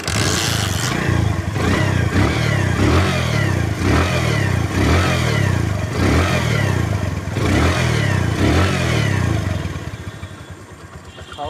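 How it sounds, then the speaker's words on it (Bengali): A Bajaj Platina 100cc motorcycle engine revs repeatedly in loud, close bursts of throttle over a steady idle, easing down near the end, with no talk over it. "এবার দেখাবো সাউন্ডটা কেমন আছে।"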